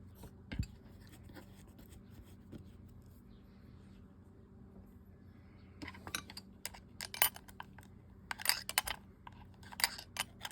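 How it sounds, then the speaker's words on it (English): Small metal parts tick and click faintly, then a denser burst of rapid clicks follows as a reverse-threaded part is screwed counterclockwise onto a Sougayilang KO 5000 fishing reel. The sounds are close and quiet. "Reverse threaded, so we got to screw it on counterclockwise"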